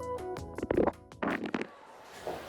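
A gurgling, rumbling stomach growl rolls out in uneven bursts, fairly close and clear, with no one speaking.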